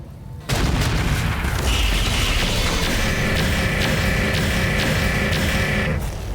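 A BattleTech mech, the Widowmaker, opens fire with all its weapons in the Roguetech mod. A sudden heavy burst after a short quiet lead-in becomes a sustained barrage of booming shots and repeated cannon thumps that stays loud.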